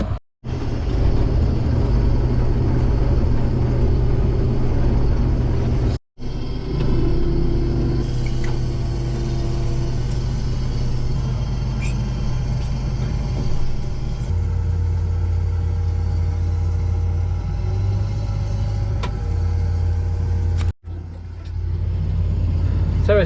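A combine harvester cutting barley in a paddock gives a steady, loud engine rumble and mechanical drone that runs nearly the whole time, with a couple of brief cut-outs and a shift in pitch partway through.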